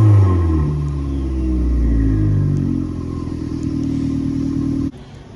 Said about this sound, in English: Hope you guys can hear that turbo.